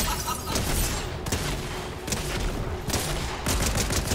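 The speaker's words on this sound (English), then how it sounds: "Absolutely pelting with shotgun." Rapid shotgun blasts in Fortnite come as a dense, loud barrage of overlapping gunfire with sharp bursts spread across about four seconds of continuous game action.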